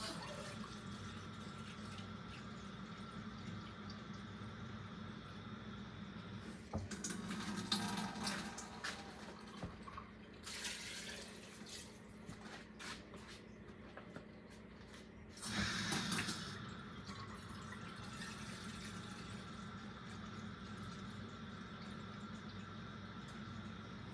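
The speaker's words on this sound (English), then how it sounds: "I got my water in there." Water runs steadily from a tap into a pot of butter beans in the background, with a couple of louder gushing bursts partway through; no talking.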